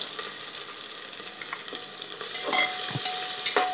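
Green chilli, red chilli powder and turmeric sautéing in a pan for drumstick pulao, a soft constant sizzle with occasional light stirring clinks and scrapes growing a bit louder near the end, close and without speech.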